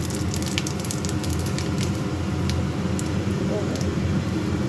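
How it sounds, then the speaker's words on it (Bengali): Cumin seeds and a bay leaf crackle in hot oil left from frying potatoes, a steady dense sizzle with scattered sharp pops, close and continuous. "ওই তেলের মধ্যেই ফোড়নে দেব জিরে সামান্য আর একটা তেজপাতা"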